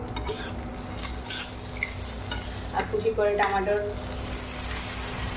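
Potatoes and okra frying in a pan give a steady sizzle, with a few brief stirring scrapes near the middle and a voice speaking briefly over the cooking.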